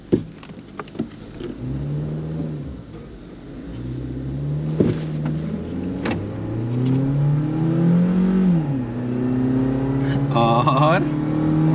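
A Mahindra Thar and a Maruti Suzuki Jimny accelerate in a drag race, engines revving and rising in pitch, loud and close, with people talking over the rumble.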